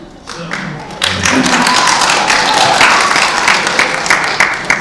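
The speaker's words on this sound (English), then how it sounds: "I'd like to remind the crowd to refrain from cheering until the end." A debate audience bursts into cheering and applause after a short quiet lead-in, a loud, sustained wash of clapping and crowd noise that holds steady to the end.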